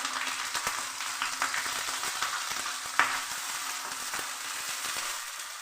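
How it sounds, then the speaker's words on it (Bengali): Chopped onion and ginger fry in hot mustard oil, giving a continuous close sizzle and crackle with occasional stirring scrapes and one sharper pop. "তেলের মধ্যে দিয়ে লাল করে পেঁয়াজ আদা ভেজে নিচ্ছি"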